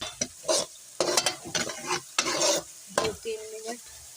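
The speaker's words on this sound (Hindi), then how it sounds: "2-3 मिनट लहसुन अदरक को पकाएंगे" Garlic-ginger paste with onion and rice frying in a pan for an aloo pulao, stirred in several bursts of scraping and sizzle, close and fairly loud, with short pauses between strokes.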